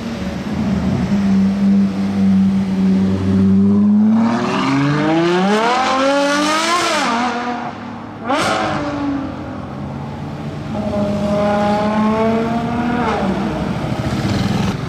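A McLaren P1 supercar with a blue titanium exhaust revs loudly nearby, its engine note climbing and falling in long sweeps with a sharp crack midway, then revving up again.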